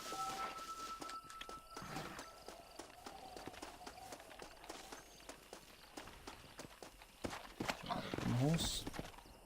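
A horse's hooves clip-clop in the video game Red Dead Redemption, a steady trotting rhythm of close, light hoofbeats that swells near the end, with a voice talking over it.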